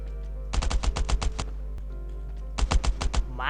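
Two bursts of rapid automatic gunfire in the survival video game Last Island of Survival, about eight quick shots, then a pause, then five or six more, fairly close and loud with no talk over them.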